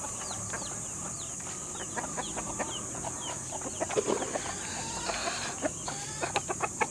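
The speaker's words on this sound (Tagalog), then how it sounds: "So ito yung breeding pen namin ng shamo." Shamo chickens cluck in a farm breeding pen, scattered soft clucks and calls over a steady high insect-like background hiss, faint and somewhat distant, with no talking.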